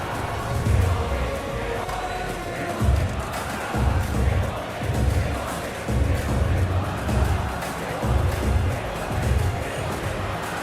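A stadium crowd in the football video game PES 2021, at a Spain vs Belgium World Cup quarter-final simulation, chants in rhythmic swells that rise and fall about every second over a constant roar.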